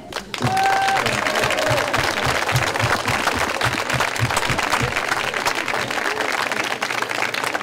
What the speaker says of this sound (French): maintenant, nous, à notre tour, nous allons vous applaudir